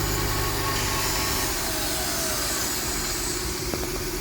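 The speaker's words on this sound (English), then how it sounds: "This is the pump that is making a lot of noise at startup," A Mercedes GLK 350 runs at startup while its secondary air injection pump gives off a steady, loud, high whining drone over the engine, with a faint falling whistle partway through.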